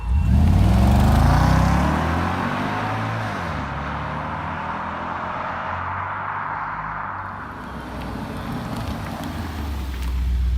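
An Audi RS4's quad-cam V8 revs hard, opening with a loud throaty surge that settles into a sustained deep, raw drone and then swells again near the end, with no voices.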